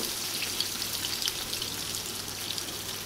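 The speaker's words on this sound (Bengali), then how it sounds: "পটলটা ভালো করে আমি ভেজে নেব।" Pointed gourd (potol) frying in hot oil for potol chingri, with a constant bright sizzle and scattered spitting pops that stay steady and close, no voices.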